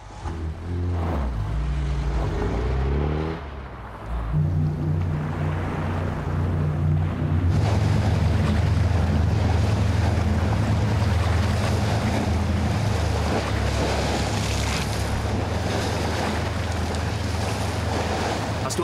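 A boat engine drones low and steady beneath rushing wind and splashing waves, the roar swelling louder after a brief dip early on.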